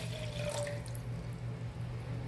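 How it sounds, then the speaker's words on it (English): Water running from a tap into a pot to make cardamom milk tea, a quiet steady trickle with faint splashing, nearby and alone. "First we will add water"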